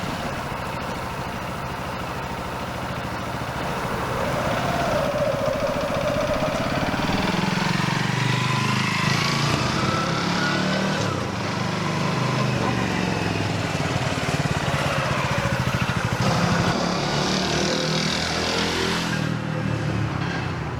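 A brand new motorbike engine runs steadily on a test ride, a loud continuous drone that rises and falls slightly with throttle, up close throughout with no talk.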